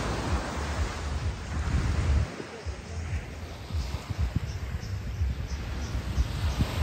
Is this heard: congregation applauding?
no